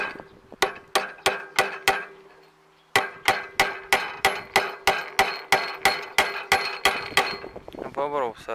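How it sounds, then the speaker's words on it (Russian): Hammer blows strike a blade holder on a Virax 1.65 lawn mower, a steady run of sharp metallic knocks about every third of a second, close and loud, with a short pause partway through and faint speech at the end. "Попробую сорвать молотком туда."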